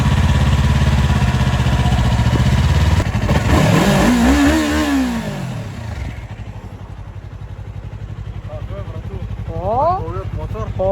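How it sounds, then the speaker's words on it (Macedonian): A newly bought sport motorcycle engine idles and revs loudly close by, swelling and dropping away, with people talking over it. "Овиот мотор? Честито."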